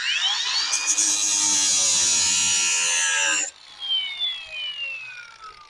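An angle grinder cuts into a truck topper shell during shortening, whining loud and steady up close for several seconds before cutting off abruptly, followed by quieter rising and falling squeals and scraping.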